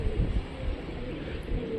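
An old Rajshahi tumbler pigeon coos softly at close range, a few low rounded calls over light room noise.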